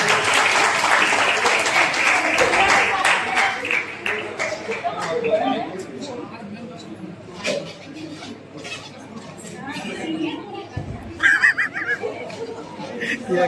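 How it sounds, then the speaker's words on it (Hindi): Audience clapping welcomes two singers at a B.Ed. college farewell party in Deoghar, a dense burst of applause mixed with crowd chatter and laughter that thins out partway through, then briefly swells again. "तालियों के साथ उन दोनों का स्वागत करें।"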